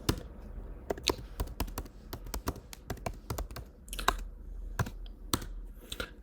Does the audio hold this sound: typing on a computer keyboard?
yes